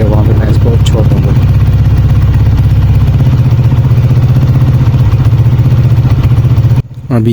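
A Honda CG 125 motorcycle engine runs close and loud at high revs with a steady low chugging throb and mechanical clatter, cutting out abruptly just before the end; no speech is heard.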